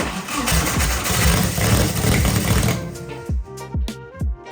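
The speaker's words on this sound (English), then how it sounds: "The engine was actually running." A 300HP turbocharged, methanol-fuelled engine in an abandoned 1980s supercar runs loud and rough for about three seconds, then drops into a few separate, stuttering bursts with gaps between them.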